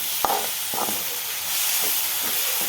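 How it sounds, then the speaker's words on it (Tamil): Onion and a large tomato sautéing in a pan for a mutton liver fry, a steady broadband hiss with a couple of sharp utensil clicks near the start, close and continuous with no talk. "தக்காளி கொஞ்சம் நேரம் வதங்கட்டும்"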